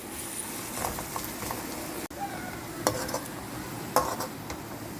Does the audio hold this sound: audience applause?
no